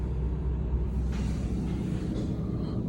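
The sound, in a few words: automatic car wash running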